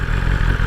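A BMW S1000RR motorcycle engine runs smoothly in fourth gear, a steady, continuous low drone with a little mechanical clatter, close and loud throughout with no talking.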